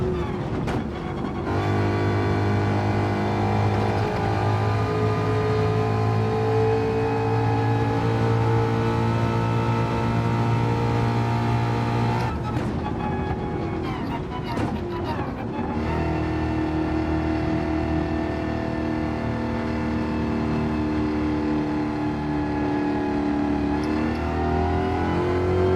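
A car engine in Gran Turismo 7 revs and climbs through gears in repeated long pulls, a loud, steady whine rising in pitch, with short breaks at gear changes and no voices.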